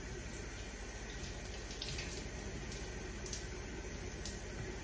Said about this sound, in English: All right, I rinsed off enough.